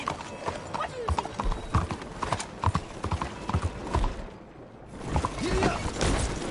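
A horse in Red Dead Redemption 2 gallops with a steady, close clip-clop of hooves, a brief lull near the end, while people talk over it.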